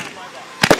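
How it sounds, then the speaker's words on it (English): Fireworks at a Kentucky evening air show with remote-control planes: two sharp, loud pops close together rise out of a steady outdoor rumble. "And fireworks."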